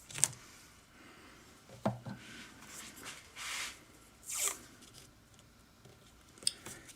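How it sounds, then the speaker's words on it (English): Electrical tape is pulled off the roll and pressed onto a guitar fingerboard for a fret replacement, making a few short, soft tearing rasps and zips with small taps between them, close and quiet. "we'll usually cover the whole fingerboard with this electrical tape"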